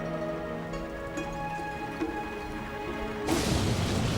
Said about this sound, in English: It's pouring rain and the road is flooded.